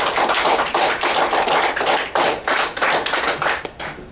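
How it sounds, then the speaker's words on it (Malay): Thunderous audience applause at a theatre pre-launch event in a hotel, loud, dense clapping sustained throughout and easing slightly near the end. "Satu tepukan gemuruh untuk dia."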